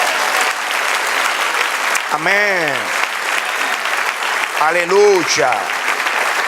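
A church congregation applauds in a steady, dense wash of clapping that runs throughout, while voices call out over it.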